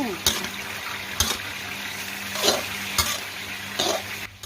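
Wild boar meat sizzling and stir-frying in a pan, a constant crackle broken by periodic scraping clunks of a spatula, with a voice speaking softly under it.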